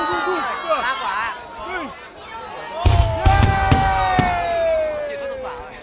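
Fireworks launch into the night sky, sharp whistling rises and several loud cracking bangs ringing out nearby, while an excited crowd chatters and calls out throughout.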